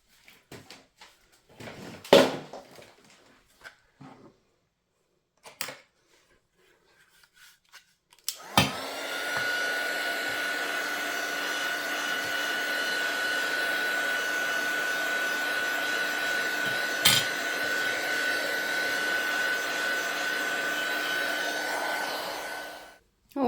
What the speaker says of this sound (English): I'm actually going to come in with my heat gun and I'm going to give that a blast